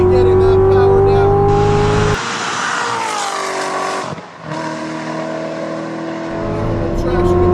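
The engine of a DSC Sport tuned 2016 Corvette Z06 on a racetrack with walls, loud and close from inside, with a strong rising roar, sharp shifts and hard revving runs that climb steadily.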